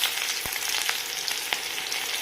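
Chopped onion fries in hot oil in a wok with bay leaf and dried red chilli for sambar, a loud, dense, unbroken sizzle with occasional sharp pops and crackles close by.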